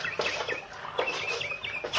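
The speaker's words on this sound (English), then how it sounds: "Hey, listen to that bird." A bird calls repeatedly in short chirping and clucking bursts, fairly close and clear, set as a sound effect in an old-time horror radio drama at night with no voices over it.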